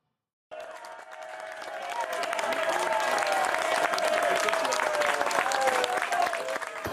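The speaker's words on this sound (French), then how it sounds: "accueillie par les applaudissements de ses militants sur la terrasse d'un bar de la Victoire" Party activists on a bar terrace in Bordeaux's Victoire district applauding a candidate, sustained dense clapping from a sizeable crowd that swells and holds, with cheers and voices woven through.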